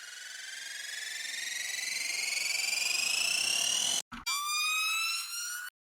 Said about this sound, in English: Kill Bill siren sounds pretty cool.